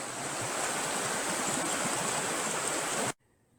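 Water flows steadily where the Fay brook joins the Musette river in the Corrèze countryside, a dense continuous rushing that is close and even in level, then cuts off abruptly near the end. No one speaks.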